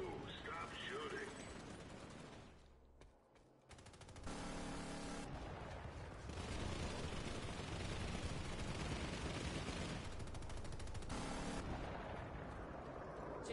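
Gunfire in the Planetside 2 shooter, sustained automatic bursts and heavy shots rattling through a busy firefight, pausing briefly before resuming loud and dense, with voices occasionally heard among the shooting.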